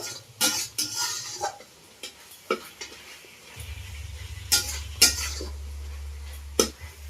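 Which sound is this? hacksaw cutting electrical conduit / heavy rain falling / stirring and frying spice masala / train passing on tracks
stirring and frying spice masala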